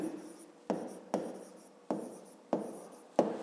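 Numbers being written by hand for a fifth-grade maths exercise, heard as five short, close scratching strokes at a steady pace, each a quick scrape that fades, with no voices.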